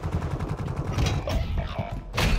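Rapid gunfire bursts and thumps from the video game Warzone 2 fill a short loud stretch, with a voice briefly heard under the shooting.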